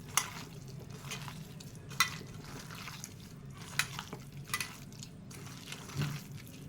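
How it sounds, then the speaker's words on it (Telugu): Minced chicken being stirred and mixed with salt and turmeric in a bowl for kofta curry, giving soft wet squelches and scraping clicks in an uneven rhythm, close and fairly quiet. "ఇప్పుడు ఇవన్నీ మనం ఒకసారి కలుపుకుందాం బాగా."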